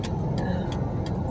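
Vehicle traffic rumbles steadily along a street in Mombasa, a truck among it passing close by as a continuous low roar with faint intermittent higher hiss.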